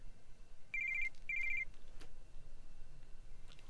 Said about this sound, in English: The blurring sound of my cell phone going off wakes me up from my depressing nightmare.